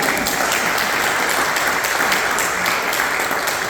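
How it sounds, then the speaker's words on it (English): A steady round of applause from a trivia night crowd for the evening's winner, close and fairly loud, holding an even wash of clapping throughout with no talking. "Big round of applause for Kim."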